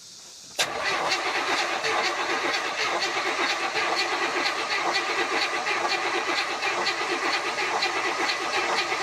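A starter cranks the engine of a 1967 Buick GS340 during valve stem seal work. It kicks in abruptly with a sharp onset, then holds a steady, loud, rhythmic whirring churn for about eight seconds without firing.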